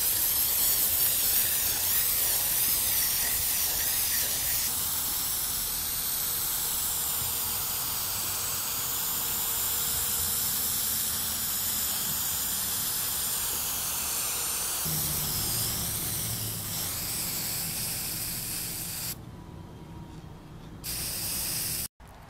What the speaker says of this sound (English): Spray polyacrylic.